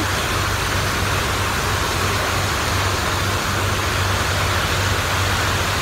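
Heavy tropical downpour hammering a ferry en route to Koh Chang Island, Thailand, as a dense, continuous roar of rain, loud and close, with a steady low rumble underneath and no talk.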